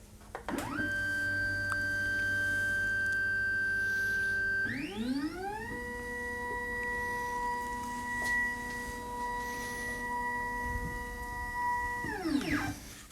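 A Formlabs Form 4B wash station gives off a steady electric whir from its motor. The pitch rises and shifts as the unit raises, then holds steady before falling again near the end.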